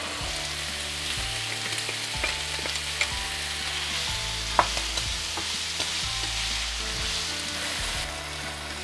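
Tomato fries in a pan with onion and pepper, giving a steady close sizzle with occasional stirring clicks and small pops over a faint background hum.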